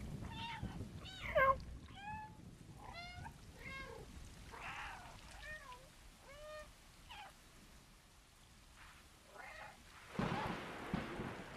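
Repeated cat meows in the video game Stray, a series of short rising and falling mews spaced about a second apart, with thunder and rain rumbling in the background and a louder burst near the end.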